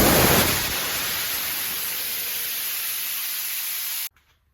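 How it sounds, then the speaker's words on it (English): Compressed air venting from the drain of an air compressor tank, a loud steady hiss that surges at the start, holds for about four seconds, then cuts off abruptly into near silence. "make sure that you pull the power cord out, and then drain all the air"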